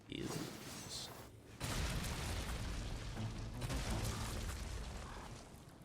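A bomb blast in Darksiders, a sudden deep boom that swells into a sustained rumbling roar lasting several seconds, with faint talking in the background.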